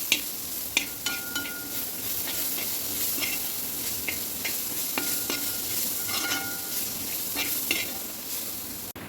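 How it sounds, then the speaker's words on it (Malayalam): Crushed ginger and garlic sauté in a pan for a Kerala-style chicken curry. A steady, close sizzle runs throughout, broken by repeated spatula scrapes and stirring taps. "ഇഞ്ചിയും വെളുത്തുള്ളിയും ചതച്ചിട്ട് കൊടുക്കട്ടാ."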